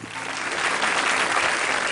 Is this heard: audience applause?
yes